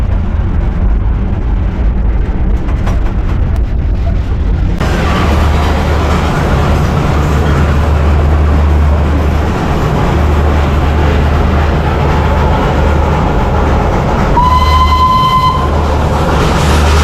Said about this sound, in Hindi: This is the first toy train in India.